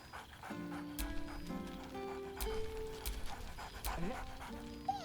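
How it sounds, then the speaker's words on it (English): A dog pants rhythmically and whimpers in Baldur's Gate 3, with brief whines over a steady game music bed with tonal notes. "Scratch barks merrily in something like agreement."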